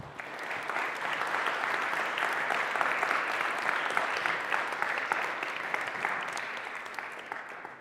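An audience applauds at the close of a lecture on the historical and medical analysis of Jesus' death and resurrection: dense, steady clapping from many hands, sustained at even strength for the whole stretch.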